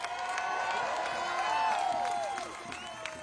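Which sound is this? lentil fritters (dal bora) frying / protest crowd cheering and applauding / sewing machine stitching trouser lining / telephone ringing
protest crowd cheering and applauding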